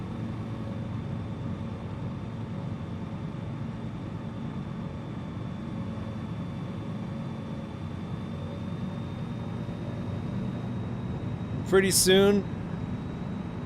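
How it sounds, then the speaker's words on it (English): Airplane engine droning steadily in the MSFS flight simulator during a blizzard mountain rescue flight over the Austria-Germany border, a constant low hum throughout with a brief spoken phrase near the end. "these people that are stuck up here may hear the engine, the sound of the airplane"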